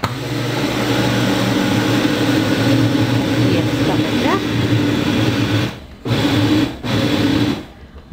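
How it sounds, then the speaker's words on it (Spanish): Blender running continuously while blending a coconut frappe with condensed milk, a loud steady motor whir with brief cut-outs near the end, with a voice audible over it. "Vamos a licuar y luego regresamos."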